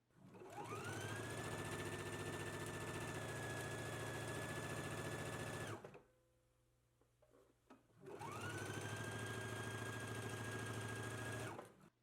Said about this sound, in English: Let's go ahead and stitch the center front seam now.